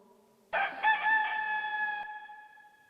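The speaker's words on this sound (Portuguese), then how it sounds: "E quando o galo cantou" A single loud, close rooster crow rings out as a sound effect in a children's Bible story, starting abruptly after a moment of quiet and holding for about a second and a half before fading.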